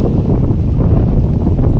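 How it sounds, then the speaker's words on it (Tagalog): Strong wind buffets the microphone in a steady, loud roar near water where fish are being caught, with no break across the whole stretch. "Ang hangin talaga dito."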